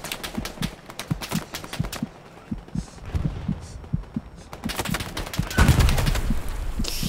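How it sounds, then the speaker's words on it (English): Tank and battlefield gunfire in the World War II game Hell Let Loose, set in the Hurtgen forest: repeated sharp shots and heavy thuds, fairly loud, over a low engine rumble with brief bursts of rapid fire. "that tank is still shooting at me too"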